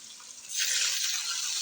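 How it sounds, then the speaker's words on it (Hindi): Water is poured into a pan of frying spices and potatoes, starting halfway through as a sudden hiss and sizzle that stays fairly loud and steady until the end, with no talking. "हल्का सा पानी इसलिए डाला है कि मसाले जले नहीं"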